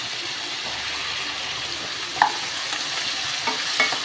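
Drumstick pieces with potato, raw plantain and other vegetables sautéing in oil for a Pongal curry, a constant sizzle with a few scraping stirs of the pan and light clinks.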